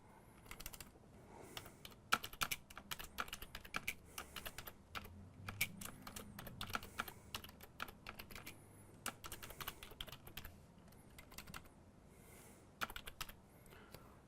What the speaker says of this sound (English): I'm going to run the net stop command. And I can turn it off just by typing it in